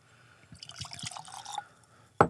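Stagg Jr. bourbon whiskey, batch 15 at 131.1 proof, poured into a glass, with close trickling and gurgling liquid for about a second, then a sharp clink of the glass.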